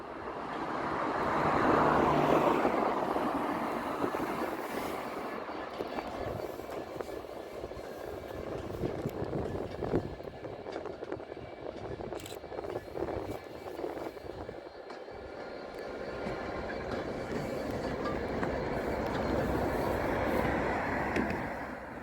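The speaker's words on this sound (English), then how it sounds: "the Freightliner Class 66 pulled 3 loaded gondolas into the yard, stopping on another track close to the DB local." Freightliner Class 66 diesel locomotive hauling three loaded gondola wagons into a rail yard, a steady rumbling engine drone with broad mechanical noise that swells and fades slightly over about twenty seconds, heard from a nearby bridge with no talk.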